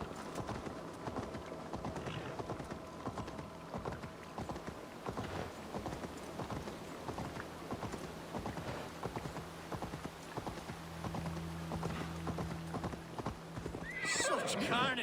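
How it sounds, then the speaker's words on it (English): Horse hooves clip-clop steadily with a neigh in Assassin's Creed Valhalla, set against a game music bed, with voices talking over it. "That horse!"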